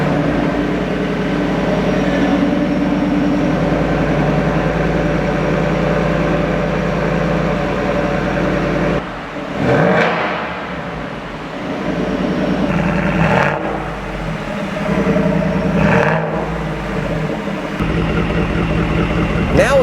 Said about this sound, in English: Now you can hear this truck.